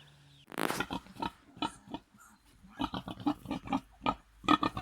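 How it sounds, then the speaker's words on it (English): Piglets on an off-grid homestead in the Norwegian woods grunt and squeal in a string of short, close oinks and snorts, with one louder squeal near the start and quick bursts following. "the first piglets came along"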